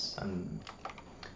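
Quick clicks of typing on a computer keyboard, a short burst of keystrokes heard close up, following a brief spoken word.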